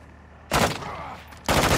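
Two loud bursts of rapid gunfire from Call of Duty: Modern Warfare II, each a dense automatic volley, the first lasting about a second and the second starting after a short gap.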